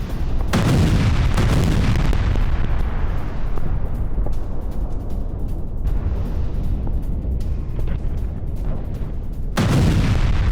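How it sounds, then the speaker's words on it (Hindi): Glide bomb strike explosions on a defensive position in Pokrovsk, Ukraine, heavy booming blasts at the start and again near the end, with a long loud rumbling roar between them. "यूक्रेनी डिफेंस पोजीशन पर ग्लाइड बम से हमला।"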